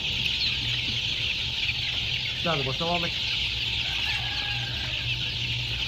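Andijan black chicken chicks cheep in a short burst of rapid, high calls over a steady background hum, with someone talking nearby.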